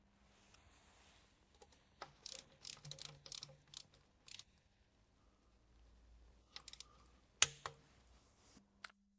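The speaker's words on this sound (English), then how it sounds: "We will now securely tighten them in a crisscross pattern with 10 Newton meters per screw." Screws on an Audi S-Tronic seven-speed DSG gearbox oil pan tightened with a torque wrench, quiet scattered ratcheting clicks and metallic taps in short bursts with pauses between.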